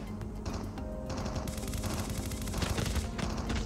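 Rapid gunfire in the mobile shooter Call of Duty Mobile, close and loud automatic bursts with dense repeated shots throughout, no talking.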